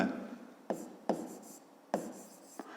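Handwriting on paper while working a fifth-grade maths exercise on line segments, with close scratchy pen strokes in short bursts separated by sharp taps as the pen touches down, quiet and alone.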